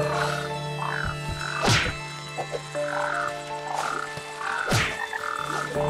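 Frogs in the video game Scarygirl croak repeatedly in rhythmic bursts over a steady humming game ambience, with two louder thumping hits midway.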